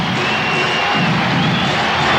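A basketball arena crowd at Memorial Coliseum in Portland roars and cheers for the Blazers during an NBA Finals game against the Bulls, a dense, loud, steady wash of voices.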